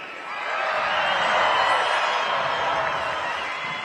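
A large crowd roars and cheers at the Bassmaster Classic fishing tournament weigh-in in Greenville, South Carolina, a broad sustained swell that builds and holds loudly for several seconds.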